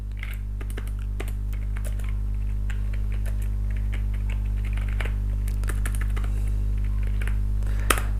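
Search keywords are typed on a computer keyboard, making quick, irregular key clicks close by over a steady low electrical hum, with no speech.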